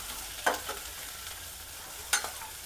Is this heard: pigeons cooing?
no